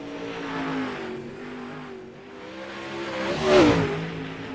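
A 360 sprint car in the iRacing simulator laps the Weedsports track during qualifying, its engine droning steadily and rising into a loud, close revving pass with a brief tire squeal, with no talk over it.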